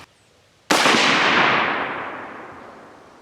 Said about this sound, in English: We're going to shoot this gun, we're going to make sure that it is dead on, so we'll give it a shot here.